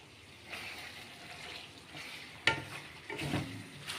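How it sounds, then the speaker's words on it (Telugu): Chicken fries in a pan, a soft sizzle and bubbling that swell and fade, broken by a sharp clatter midway and some stirring or scraping toward the end, with no voices. "ఫ్రై అయితే దగ్గరకు వచ్చింది."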